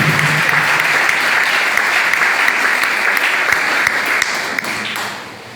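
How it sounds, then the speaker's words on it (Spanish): A church congregation at a worship service breaks into loud, sustained applause, a close wash of many hands clapping that holds steady before tapering off at the end. "sella ese amén con fuerte, pero fuerte aplauso"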